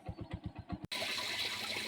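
Water running from a pipe into a farm storage tank, a steady loud broadband rush that starts abruptly partway through, after a short stretch of rhythmic pulsing engine or pump-like thumps.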